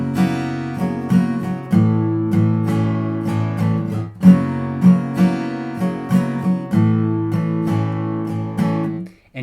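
An acoustic guitar plays the Come As You Are chords by Nirvana, rhythmic strummed chords ringing close and clear in repeated rounds, with no voice over them.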